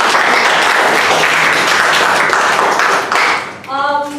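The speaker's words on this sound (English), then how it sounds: "I think that they really deserve a round of applause" Audience applause for the debate teams at the 2017 World Schools Debating Championship, Australia versus USA, a dense, steady clapping that fills the hall and tapers near the end as a sustained tone enters.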